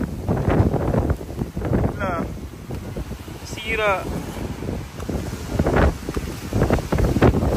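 Strong gusting wind from Super Typhoon Leon in Taiwan buffets the microphone in a constant roar while people speak briefly over it.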